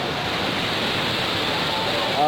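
Big ocean waves on the shore while fishing in Oman, a loud continuous roar of surf and rushing water throughout, with no clear voices above it.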